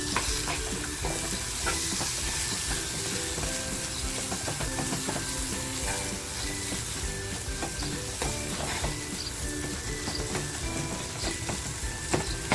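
Spicy prawn masala simmering on a low flame in a pan, a continuous close sizzle and bubbling with occasional stirring clicks, no voices.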